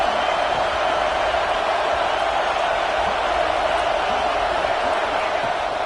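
A big college football stadium crowd in Happy Valley roars on third down, a continuous loud wash of noise that never lets up, with a commentator's voice faintly under it.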